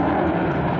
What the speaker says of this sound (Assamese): প্লেন উৰি আছে বৰ ওচৰতে এয়াৰফ'ৰ্চখন